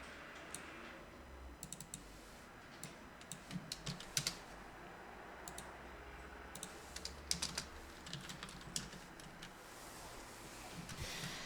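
Quiet computer keyboard typing while entering an Excel formula, irregular clusters of light key clicks with pauses between them against a low background hum.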